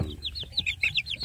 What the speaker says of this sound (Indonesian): senangnya kalau kita memelihara anak ayam kampung masih ada di dalam kelompok ini, di dalam kandang